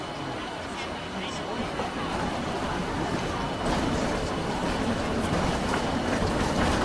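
A tram running through the OMSI tram simulator on the Eberlinsee map: a steady, continuous rumble and rolling hum of the tram in motion, growing slightly louder, with a voice talking over it throughout.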